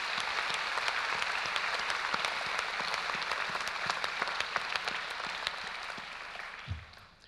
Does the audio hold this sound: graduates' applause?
yes